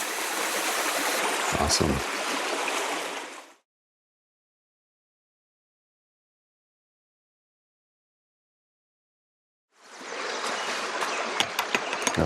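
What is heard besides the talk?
stream water of the Mississippi River headwaters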